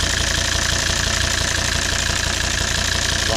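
A 2006 Volvo XC90 D5 185 five-cylinder diesel idling with its engine warning light on: a loud, steady, close-up rumble with an even mechanical clatter, with no voices.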